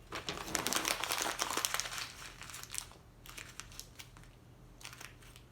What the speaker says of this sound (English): crumple a sheet of paper into a very tight ball